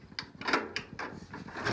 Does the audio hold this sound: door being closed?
yes